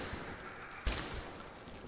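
A single loud gunshot rings out at about the midpoint in the video game Metro Exodus, fired at a distant narcoman, over a low ambient game background with no talk.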